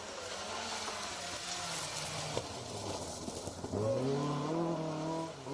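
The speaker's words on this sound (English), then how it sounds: "Rear tyres scrabbling for grip in that Mark II." A Mark II rally car on a wet Roger Albert Clark Rally 2023 stage in Kielder with its rear tyres scrabbling for grip: engine notes rise and fall through revs, with a fresh rising rev and scrabbling roar near the end, heard from a distance.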